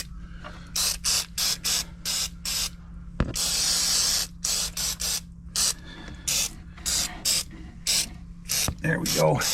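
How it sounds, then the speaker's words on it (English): An aerosol can of rust spray hisses into the battery compartment of a 2014 Promaster van: many short, rhythmic spritzes with one longer continuous blast in the middle, close and clear, ending with a brief rattle or clunk. "I'll spray some in here while I'm at it in the battery compartment."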